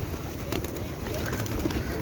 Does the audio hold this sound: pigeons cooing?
yes